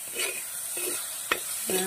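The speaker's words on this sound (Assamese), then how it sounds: "এয়া এতিয়া মই ভাজিছোঁ এয়া লেটা পিঠা, এয়া পিঁয়াজ আৰু লেটা ভাজিছোঁ" Onion and leta fish sizzle steadily in a hot pan, a broad hiss punctuated by a few stirring scrapes and one sharp utensil tap, close and moderately loud with no talking.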